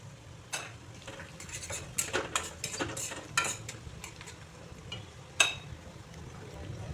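Onions frying with a pinch of sugar in a pan for a Bengali katla kalia, a low steady sizzle under irregular clinks and scrapes of a spoon against the metal.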